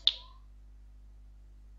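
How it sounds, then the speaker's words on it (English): One crisp finger snap rings out close and alone, then fades into a quiet room hum. "Snap your fingers."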